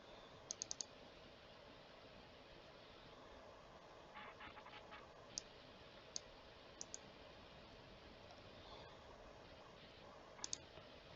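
Sparse computer mouse clicks in Tabletop Simulator: a quick triple click early on, a soft cluster of taps mid-way, then single and paired clicks scattered over a quiet background.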